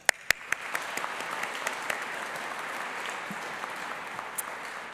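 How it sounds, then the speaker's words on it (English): Audience applause at a graduation ceremony, a few sharp claps building into sustained, even clapping from a large hall crowd that holds steady to the end. "a round of applause for the academic and support staff of the faculty"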